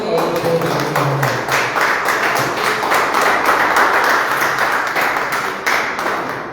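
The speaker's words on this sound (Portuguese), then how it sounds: "Vamos aplaudir" A church congregation applauds together, a dense, steady wash of many hands clapping close and loud that carries through the whole stretch without fading.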